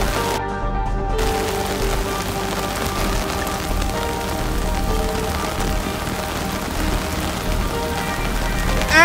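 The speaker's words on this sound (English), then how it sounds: "Now it's raining more!" Heavy rain pours steadily onto a surface in San Diego, a dense, continuous hiss with pattering drops throughout and no voices.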